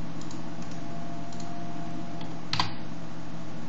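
Scattered light taps of a computer keyboard as a terminal command is typed on Ubuntu, a few soft clicks over a steady low hum, with one sharper keystroke near the end.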